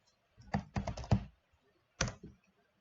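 Short bursts of keystrokes on a computer keyboard while entering an AutoCAD command, a quick cluster of clicks followed by a pause and a second brief burst, close and clear.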